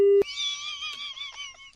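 Telephone tones while a call connects: a short steady beep, then a brighter, warbling ringback-like tone that carries on, faint and thin, with no talking.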